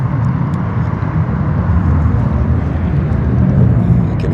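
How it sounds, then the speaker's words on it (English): Air Force planes flying high up in the clouds produce a continuous, broad rumbling roar that persists steadily throughout, heard outdoors from a distance. "I can hear the planes"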